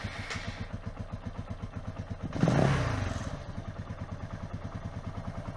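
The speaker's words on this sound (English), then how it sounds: "let's turn on the bike and see if the charging system delivers" A Beta Alp motorcycle fitted with a lithium-ion battery cranks and fires up, a loud burst of starting noise giving way to a steady, rapid single-cylinder idle thumping on close by, with no talking.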